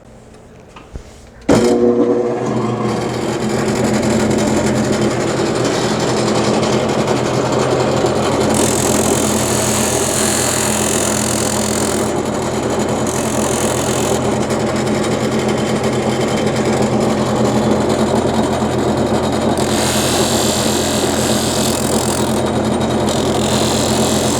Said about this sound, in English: I'm gonna grind off all this broken stuff here because that's of no value now.